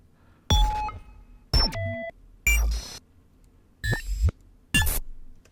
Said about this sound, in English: Glitches. Glitch tones.